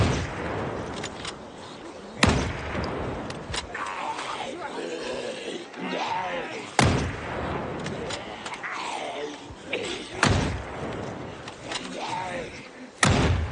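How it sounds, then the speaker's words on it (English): Repeated smacks of a zombie against a fence in Project Zomboid, heard as about five sharp, loud slams spaced several seconds apart over a busy game soundscape, with talk running throughout. "let's let her smack the fence 5 or 6 times, maybe"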